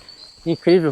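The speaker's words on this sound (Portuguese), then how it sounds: "É isso. Os grilos." Crickets chirp in a forest near a beach, a faint high steady trill running underneath while a person speaks a short word close to the microphone.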